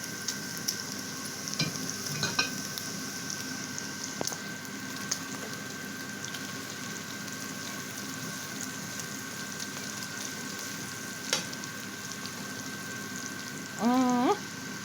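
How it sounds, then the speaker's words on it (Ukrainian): Onion, pork belly and carrot fry in a pan with a quiet, steady sizzle. A few clinks sound across it and there is a brief scraping stir near the end. "Відсмаживши цибульку під черевок, додаю морковку."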